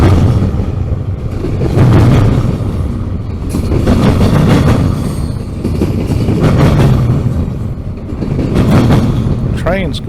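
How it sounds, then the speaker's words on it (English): A train rumbles and clanks over a railroad interlocking, heavy rolling noise with repeated metallic clatter in waves, loud and close. "Trains going over the interlock is always noisy"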